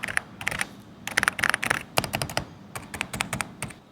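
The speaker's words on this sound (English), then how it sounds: "The keys actually sound more dampened than what my mic can record or capture." Typing on an Epomaker Shadow-S tenkeyless keyboard fitted with Sea Salt Silent switches, a close run of soft, muted keystrokes in irregular bursts with short pauses, no voices.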